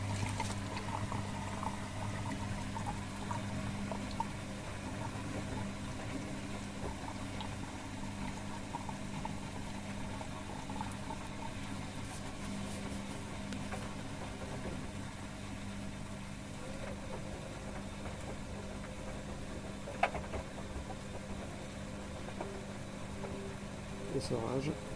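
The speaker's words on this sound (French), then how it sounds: "Là, c'est l'essorage final." A washing machine on a quick 40° colour cycle runs its final spin with the door open, giving a steady droning hum and low motor whir throughout, with a voice heard faintly at times.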